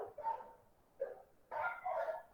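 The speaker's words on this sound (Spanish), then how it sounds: "Ay, pinche perro, no." A neighbor's female dog barks outdoors near a house where a gardener is working, giving several moderately distant barks in short bursts with a pause between them.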